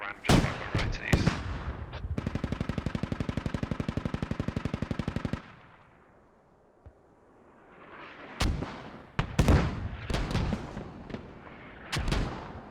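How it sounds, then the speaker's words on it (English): In the tactical shooter Squad, a rapid, evenly spaced string of automatic fire runs for about three seconds, then fades into rumbling mortar impacts. Several sharp, booming blasts follow as shells land, with faint voices talking in between. "Calm under pressure, mortars landing. I believe those are Spit's mortars."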